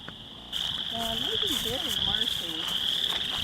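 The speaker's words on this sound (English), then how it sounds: "Can you hear that? Those frogs? Isn't that amazing?" Frogs croak in a loose series of throaty calls at a small marshy pond outdoors, set against a steady high-pitched insect drone.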